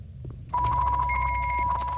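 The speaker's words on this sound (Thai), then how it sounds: "มีคนโทรศัพท์มา ทำไมโทรศัพท์ถึงดังขึ้น" A telephone rings in the Roblox horror game Ghost Hunter, a steady electronic ring tone that starts abruptly and continues without a break over a low background hum. No one speaks.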